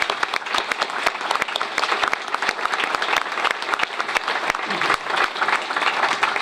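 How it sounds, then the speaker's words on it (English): Audience at a keynote awards event gives a big round of applause for the award winners, dense, sustained clapping from a large crowd, loud and continuous throughout. "Join me once again, won't you please, in a big round of applause for all the award winners tonight"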